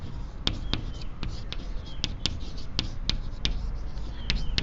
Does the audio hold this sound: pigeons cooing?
no